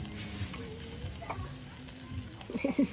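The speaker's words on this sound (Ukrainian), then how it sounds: "Шкварчать." Pork ribs and shashlik sizzle on an outdoor family grill, a steady faint frying crackle running throughout, with a voice briefly heard near the end.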